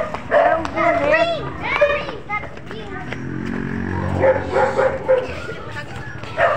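A dog barks in short yips and bow-wows near children at play, the barks scattered through the clip and mixed with kids' voices and chatter.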